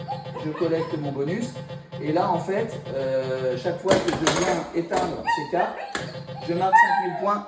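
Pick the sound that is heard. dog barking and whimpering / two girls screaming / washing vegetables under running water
dog barking and whimpering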